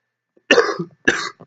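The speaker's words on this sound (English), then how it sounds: "Sorry I'm coughing and sounding funny." Two harsh coughs from a sick man in quick succession, close and fairly loud, the second followed by a short throaty catch.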